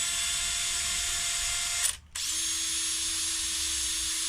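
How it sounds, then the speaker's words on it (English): A power drill whirs steadily, cutting out briefly midway before spinning back up to a constant high-pitched hum. "if you put it into your drill, instead of doing it down by the fingers, you just hold it"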